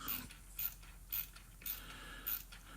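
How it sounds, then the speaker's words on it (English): A ratcheting screwdriver drives screws into wood while plugs are fitted in a wall, giving four short, distinct ratchet clicks at an even pace, close by and fairly quiet, with no talking. "Now I'm just using the ratcheting screwdriver here just to get the right sort of torque."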